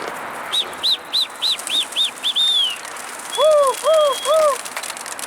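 Pigeons in a flock taking off from the ground, with a short run of sharp, evenly spaced chirping calls followed by three louder swooping whistles, close and clear.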